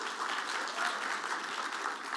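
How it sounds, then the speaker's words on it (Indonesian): A church congregation applauds during a Sunday sermon, a dense, even clapping from a large audience that holds steady throughout, with no talk over it. "Kasih tepuk tangan buat Grace."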